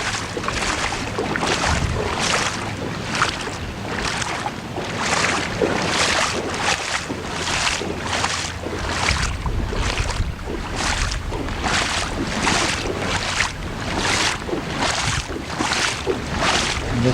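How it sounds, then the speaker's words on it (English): Strong wind roars steadily and loudly across an open roadside during flooding, buffeting the microphone in rhythmic gusts with low rumbling throughout and no talk. "The wind today is just simply unbelievable."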